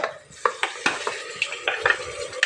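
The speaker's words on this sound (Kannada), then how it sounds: "ಈಗ ಇದಕ್ಕೆ ಮಟನ್ ಹಾಕ್ತಿದ್ದಿ" Mutton pieces dropped into a hot pan, with sharp sizzling bursts and clinks of stirring against the pan, several quick crackles in a row, close and fairly quiet.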